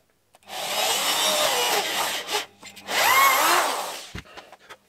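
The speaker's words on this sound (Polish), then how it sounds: "I wiercimy." A power drill bores a hole through furniture board for a cargo cabinet carcass, two loud sustained whirring bursts with a short pause between, close by.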